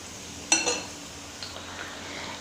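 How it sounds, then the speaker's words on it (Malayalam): Laddu batter ladled little by little into hot oil: a sharp metal clink of the ladle, then a soft hissing sizzle that fades to a low, steady frying noise, close by with no talk. "ചൂടായ എണ്ണയിലേക്ക് നമുക്ക് ഒരു തവി ഉപയോഗിച്ച് ബാറ്റർ ഇങ്ങനെ കുറേശ്ശെ ഒഴിച്ചു കൊടുക്കാം"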